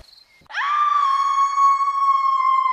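A character in a modded Left 4 Dead 2 game lets out one loud, sustained high-pitched scream that starts abruptly after a brief quiet moment and holds steady without fading.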